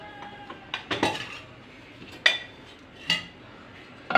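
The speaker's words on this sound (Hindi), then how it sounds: "कढ़ाई हमने ऊपर रख दी।" Metal kadhai set down on a stove in a home kitchen, a few sharp clanks and clinks of metal on metal scattered over several seconds, close and fairly quiet.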